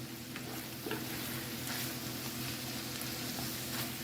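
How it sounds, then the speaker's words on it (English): Onions sizzling gently in a pan on a stovetop as they slowly caramelize over moderate heat, a steady even hiss with faint crackles, close and without speech. "We're making long cooking caramelized onions."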